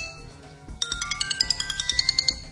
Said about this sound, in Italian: il telefono suona